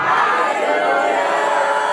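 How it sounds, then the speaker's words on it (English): A church congregation shouts a loud hallelujah together, a massed roar of voices that stays strong and sustained for a couple of seconds. "shout a loud hallelujah"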